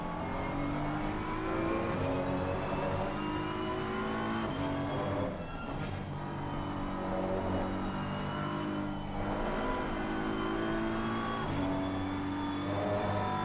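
A Porsche and a McLaren race closely in an online racing game, their engines droning and revving loudly and continuously, rising and falling as they shift through twisty corners, with no talk.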